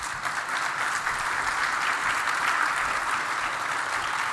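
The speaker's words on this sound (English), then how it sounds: "Let's give him a round of applause." An audience at a software craft conference applauds steadily, a dense, sustained wash of clapping from a large crowd that carries on for the whole stretch without letting up.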